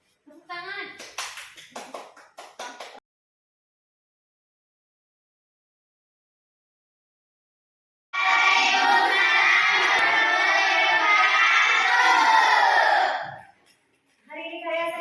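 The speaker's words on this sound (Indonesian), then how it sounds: "Tepuk tangan." A classroom of schoolchildren at a junior high school claps and cheers in a loud, sustained burst of about five seconds, with brief child speech before and after.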